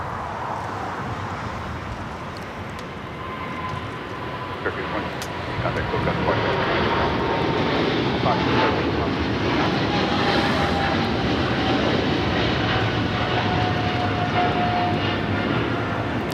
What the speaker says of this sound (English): This is Turkish Airlines 180 taking off to Istanbul on the 777-300ER.